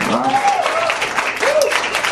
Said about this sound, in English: By round of applause here